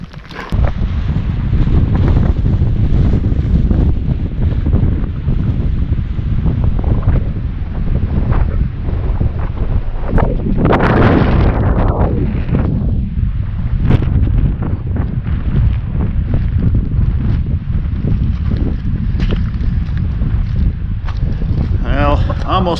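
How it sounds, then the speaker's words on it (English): Strong cold wind blasts across a high mountain slope, roaring steadily and loudly against the microphone with gusting buffets throughout, and a brief voice breaks through partway. "it was cold and windy and blasting up there"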